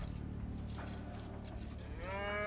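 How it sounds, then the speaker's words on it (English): A cow in Age of Empires 2: Definitive Edition gives a long, loud low moo that swells near the end, close and clear with no talk. "This cow actually has not been captured."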